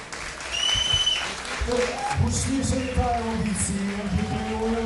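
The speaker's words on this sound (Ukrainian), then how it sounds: "Заслужили вони цих аплодисментів залу" Hall audience applauding a kickboxing bout, a steady wash of clapping heard under an announcer's commentary.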